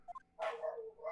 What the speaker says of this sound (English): Please excuse my psychotic dog.